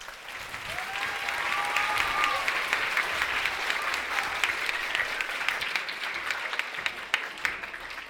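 An audience at the Laugh Out Loud Book Awards ceremony applauds the performers in a full, sustained round of clapping that stays steady throughout, with a few faint tonal calls riding above it.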